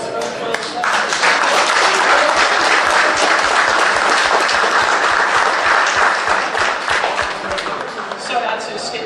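Audience at a talk on Gremlin Graphics gives its guests a warm round of applause, loud and sustained clapping from a close crowd with some voices mixed in, fading slightly toward the end.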